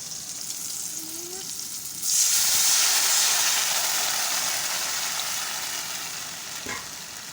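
Water is poured into a pan of fried green mango and potato pieces. A soft background sizzle suddenly erupts into a loud, close hiss that holds steady and slowly eases off, with a brief knock near the end.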